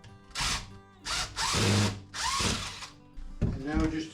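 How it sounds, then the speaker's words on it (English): A power drill drives the last screw into a wooden storage cabinet, whirring in several short bursts with a brief pause between them, close and fairly loud. "And we'll put this last screw in over here."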